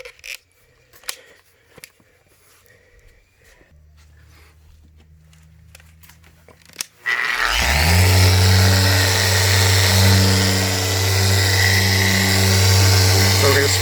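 A machine polisher set to orbital mode spreads polish over white paint on a Toyota Land Cruiser, switching on after quiet handling noises and then droning loudly and steadily.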